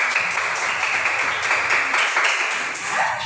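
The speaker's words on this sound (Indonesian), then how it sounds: "tepuk tangan dulu untuk mereka" Applause rises from an audience at a school or community gathering after a dance performance, a loud, steady wash of clapping that holds evenly throughout with no speech.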